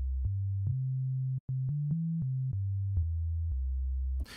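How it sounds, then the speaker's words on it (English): Pure synthesizer sine wave tones play a short low bassline, the pitch stepping up and down with small clicks between notes, clean and steady with nothing else heard. "So the sine wave is the most pleasant sounding, I think."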